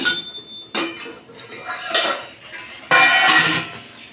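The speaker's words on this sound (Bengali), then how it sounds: "পাঁচ মিনিট হয়ে গেছে ঢাকাটা আমি খুলে নেব" A metal lid comes off a cooking pot after five minutes of boiling tomatoes, giving sharp clanks and scrapes of metal on metal in two bursts, near and fairly loud, with no voices.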